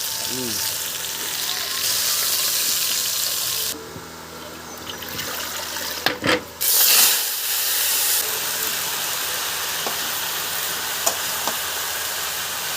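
Dried chillies, bay leaves and five-spice seeds drop into hot oil for a large communal meal at a village Shiva festival, giving a steady loud sizzle and hiss with a burst of spitting midway and faint stirring.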